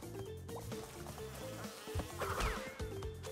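Swarm of bees buzzing in the Crash Bandicoot N. Sane Trilogy platform game, a steady insect drone layered over the game's music and sound effects, with no talking.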